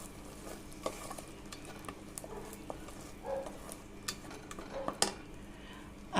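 Chicken kabab gravy with fresh coriander sautés in oil in a pan, giving a soft continuous sizzle with scattered stirring scrapes and clinks near the end, steady and moderately quiet with no talking.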